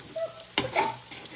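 Food frying in a pan in a home kitchen, a brief sizzle and stirring scrape over low hiss, with a short sharp clatter near the middle and a fainter burst toward the end.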